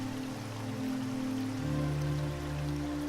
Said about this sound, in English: we hear a bit more of a roar from the stream as the water picks up pace down the slope